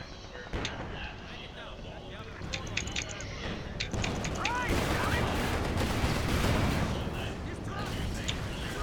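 Battlefield gunfire from the strategy game Company of Heroes 2 crackles in scattered shots and heavier bursts, with booming impacts building into dense, noisy combat while a voice speaks over it.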